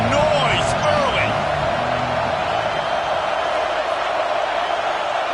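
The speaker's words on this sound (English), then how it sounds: "This crowd bringing the energy and noise early." Video game stadium crowd from College Football 26, a loud steady roar with whoops and cheers rising near the start, with a commentator speaking over it throughout.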